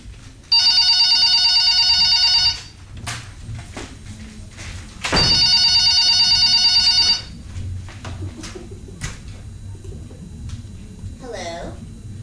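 A telephone rings twice in long electronic trills, loud and close, separated by a short pause, with a thud and faint movement noises afterward.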